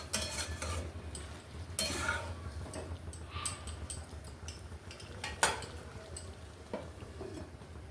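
Metal clatter from a cooking pot being covered with a lid while moringa drumsticks and potatoes simmer: a few faint clinks and one sharper knock, quiet over a low background hiss.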